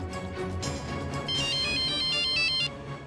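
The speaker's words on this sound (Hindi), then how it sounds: "वो पुलिस स्टेशन से फोन था" A phone rings with an electronic ringtone for a call from the police station, a loud, steady melodic tone lasting about three seconds with no talk.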